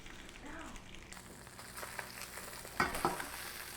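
Fish frying in hot oil for fish tacos, a steady close sizzle with brief louder crackles and spatters near the end, heard alone without talk.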